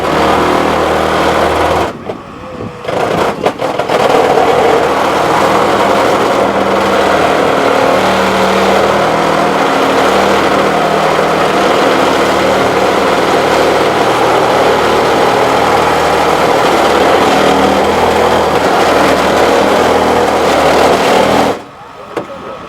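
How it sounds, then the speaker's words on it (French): Loud, continuous buzzing roar of a reciprocating saw cutting through a car's metal body, steady for a long stretch, stopping briefly near the start and again at the end. "Donc ça, c'est la scie sabre, ça fait du bruit."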